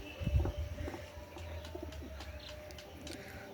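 Fantail (lakka) pigeons cooing softly in cold weather, a few low, faint coos heard at a distance over a steady background hum, with no talk.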